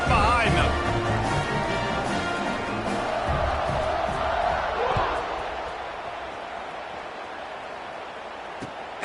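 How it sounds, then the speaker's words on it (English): A football stadium crowd roars before kickoff, a loud sustained cheer under a commentator's speech that gradually fades toward the end. "They're set to kick it off, and this crowd now ready to get behind them."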